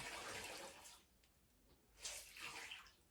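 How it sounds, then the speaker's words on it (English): A hand towel soaked in hot water being wrung out, producing two bursts of splashing, trickling water separated by a brief lull, close and fairly faint, with no talk. "The whole hand towel's going in the hot water, and I'm just rolling it up and wringing it out."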